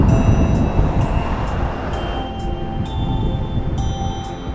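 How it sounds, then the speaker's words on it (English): A train passes through Whitefish, Montana, giving a loud, steady rumble of rolling wagons with faint repeating rhythmic clicks over the whole stretch. "There's the train"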